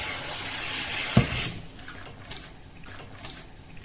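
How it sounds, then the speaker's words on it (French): Cold water runs from a kitchen faucet into a sink to soak a cloth, a steady splashing stream that cuts off partway, leaving quiet dripping and faint handling sounds. "Il suffit d'imbiber la toile Infume Nature avec l'eau froide au robinet."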